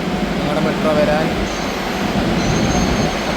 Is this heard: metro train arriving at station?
yes